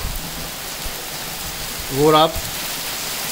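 Steady rain falling outdoors where tractors are parked for a cancelled demo, a continuous hiss throughout, with someone speaking briefly near the middle.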